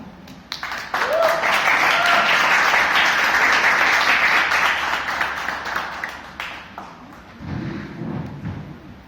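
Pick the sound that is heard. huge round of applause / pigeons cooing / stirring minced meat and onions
huge round of applause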